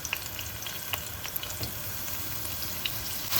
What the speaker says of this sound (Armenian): խոշոր կախասունկը առանց կտրատելու դնում եմ տապակվի։